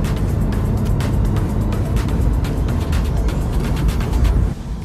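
Engine of a 2024 Toyota GR86 manual sports car on a test drive, a loud continuous cabin drone with rumbling road noise that holds steady throughout, easing slightly at the very end.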